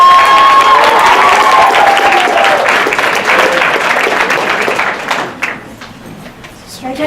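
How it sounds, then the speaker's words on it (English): A school poetry slam crowd applauds and cheers loudly for a performer, with voices and whoops mixed into the dense clapping, which thins and tapers off toward the end. "Round of applause for Mr. O'Rourke."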